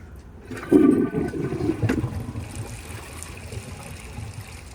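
A cheap Glacier Bay high-efficiency toilet flushes with a washcloth and grocery bag in the bowl: a loud, close rush of water that surges abruptly, then gurgles and trickles away.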